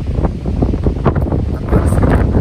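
Strong, gusty wind of about 35 mph at Grayson Highlands on the Appalachian Trail buffets the microphone, a continuous loud roar with rushing surges and no voices.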